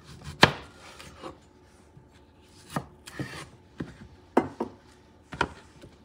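A knife slicing horizontally through an onion on a cutting board, a handful of sharp, separate chops and knocks spaced unevenly, close and fairly quiet between strokes.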